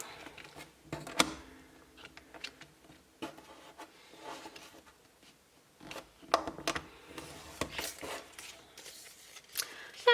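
Scissors cut canvas material to size in a run of irregular, close snips and rustles, with short pauses between cuts.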